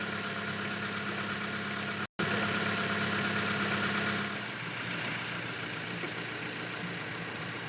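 A replacement engine in a Mazda CX-3 idles steadily and evenly, a continuous close hum with no voices, broken by one brief cut in the middle.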